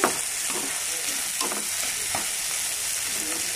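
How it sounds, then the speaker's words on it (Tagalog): Onion sautés in a hot pan for a tortang talong dish, giving a loud, continuous sizzle with several stirring scrapes of a utensil; no voices. "igigisa ko na nga yung sibuyas"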